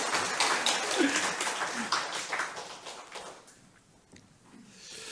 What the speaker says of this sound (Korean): 이게 박수도 쳐주고 하는 게 분위기인 거야.